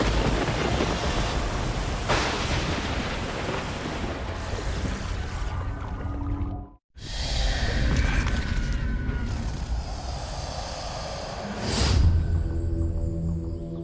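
A Malaysian monsoon thunderstorm pours heavy rain in a loud, continuous roar, with thunder rumbling through it and a fresh crack of thunder building near the end; no voices are heard.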